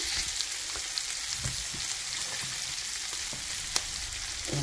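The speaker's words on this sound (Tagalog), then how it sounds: "inihalo na natin ang ating pork sa onion and garlic" Pork sizzles in a pan with onion and garlic for a bitter gourd dish, a steady bright crackle with occasional stirring clicks and scrapes, close and continuous.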